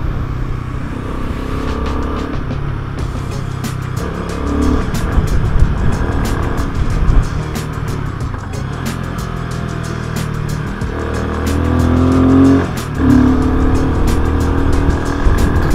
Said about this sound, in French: Tu vas me lâcher ton moteur?